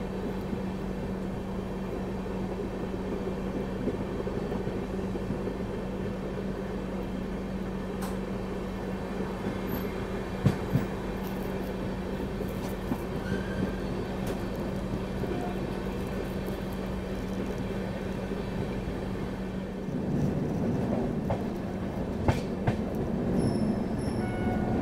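A special passenger train from Banaras to Delhi rolls through Bareilly Cantt station without stopping, heard from on board as a continuous low rumble and hum with occasional clicks and a squeal, the tone shifting near the end.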